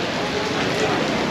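Heavy downpour pounding steadily on surfaces in a town in Albania, a dense, continuous hiss of rain filling the whole moment up close with no pauses.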